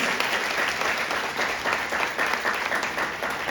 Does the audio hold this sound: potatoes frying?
no